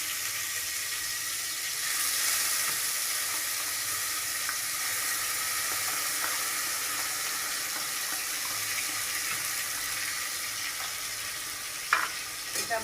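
Onion paste frying over low heat in a pan, giving a steady close hiss and sizzle that runs evenly with occasional faint scrapes and a brief clatter near the end, no voices.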